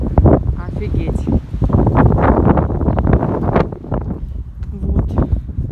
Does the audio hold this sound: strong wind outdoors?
yes